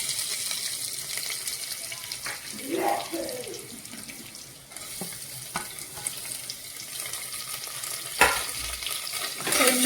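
Chopped onion frying in a pan with curry leaves for moong dal khichdi gives a continuous hissing sizzle, with a few clinks and stirring scrapes breaking through.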